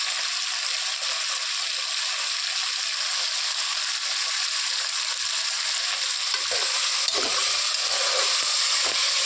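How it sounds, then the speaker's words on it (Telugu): Masala frying in oil with mutton pieces for a mutton curry, a steady broad hiss and crackle held close throughout, with a few soft stirring knocks near the end and no talk. "నూనెలో బాగా మగ్గాక మనం మసాలా వేద్దాం. బాగా ఫ్రై కావాలి."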